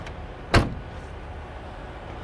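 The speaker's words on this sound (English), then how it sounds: "Go ahead and get this door closed." A truck door is pulled shut with a single sharp slam at close range, followed by quiet outdoor background.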